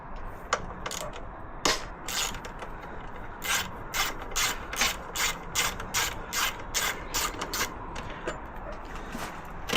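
Ratchet clicking as it works the tank mount bolts loose on a Yamaha WR125X motorcycle. It is close and rhythmic, a steady run of sharp ratcheting strokes under a faint background.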